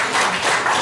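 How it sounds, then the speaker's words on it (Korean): Steady applause from a seated audience at a Korean political joint press conference, dense continuous clapping at close range without speech. "발표하신 두 분께 다시 한번 큰 박수 부탁드리겠습니다."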